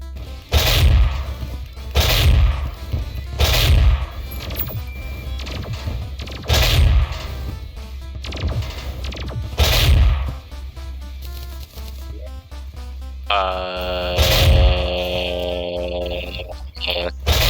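Ballista sentries in Terraria fire at the Golem boss inside the jungle temple, giving repeated heavy thumping shots at a steady rhythm over game music, with a rising chime flourish near the end.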